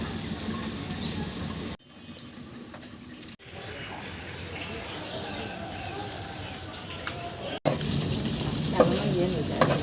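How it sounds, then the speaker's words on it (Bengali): Potatoes fry in a pan on a village stove with a constant crackling sizzle and occasional stirring, the sound cutting abruptly between stretches. "আলু ভেজে দেওয়া লাগবে"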